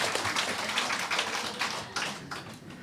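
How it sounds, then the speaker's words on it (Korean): A church gathering gives warm applause to welcome a first-time visitor, a dense, steady wash of clapping from a crowd that continues throughout. "어쨌든 오셨다고 했으니 뜨거운 박수로 환영하겠습니다."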